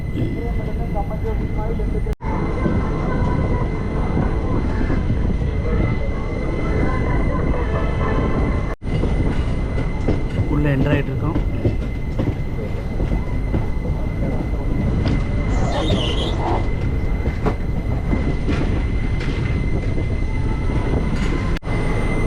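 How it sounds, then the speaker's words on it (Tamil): A train departs Kollam Junction, rumbling steadily along the rails for the whole stretch, loud and close, with rattling carriage noise and occasional brief squeals. "இன்ஜினை முன்னாடி மாட்டிட்டு வண்டி கிளம்புது போகலாம்"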